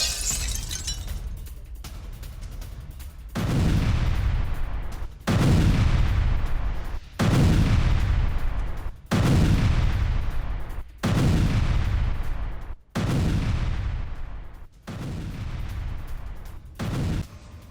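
A series of heavy booming explosions, about seven blasts each followed by a long rumbling decay, loud and fairly regular.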